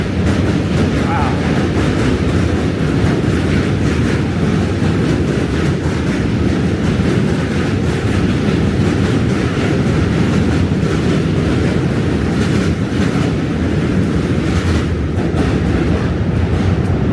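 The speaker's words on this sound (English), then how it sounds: "Another train is coming. A Q train this time." A New York City subway Q train rumbles loudly and steadily across the Manhattan Bridge, with a continuous roar and clattering of wheels on the rails throughout, heard close by.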